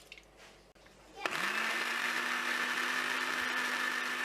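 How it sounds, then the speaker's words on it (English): An electric blender whirs into action with raspberries and lime juice, starting abruptly after a quiet moment and settling into a steady, high motor hum close by. "I'm going to blend the raspberries and the lime juice in this blender"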